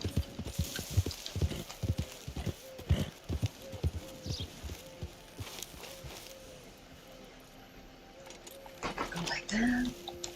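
Horse hooves clip-clop in a steady walking rhythm in the Red Dead Redemption video game, with a brief whinny near the end and people talking over it.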